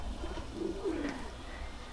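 Low, soft pigeon cooing rises and falls in a brief murmuring phrase, fairly quiet against a faint background hum.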